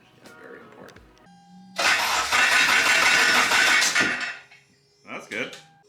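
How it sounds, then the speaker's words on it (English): K24 engine in an MR2 Spyder cranking with its coil packs disconnected, a loud whirring starter churn lasting about two seconds without firing, with people talking before and after. "I disconnected all the coil packs to see if it would crank and to let all the oil start flowing."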